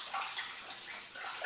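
C-41 colour film developer is poured out of a Jobo processing tank, a steady close splashing liquid stream running throughout.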